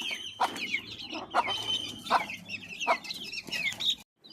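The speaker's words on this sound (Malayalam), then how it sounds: "പുതിയ പൂവൻ കോഴിനെ കിട്ടിയിട്ടുണ്ട് കേട്ടോ ഞങ്ങൾക്ക്" A newly acquired rooster clucks in a short series of sharp, close calls at a household flock in Kerala, with no talk over it.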